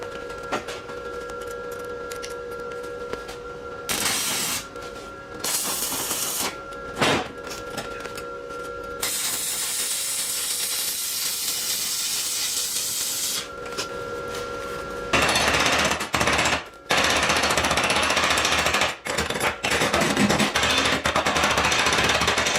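Stick welding with 3.2 mm rods at about 120 amps on a SIP Autoplus 130 dual process welder: a steady, loud crackling hiss running in several bursts with brief pauses between them, no talking.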